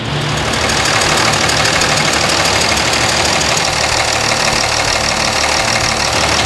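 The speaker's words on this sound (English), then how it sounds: "These clamps right here, as you can see, this one is just rattling all over the place." A loud idling engine runs steadily with a continuous metallic rattle and knocking vibration from a loose fuel line clamp throughout, close up.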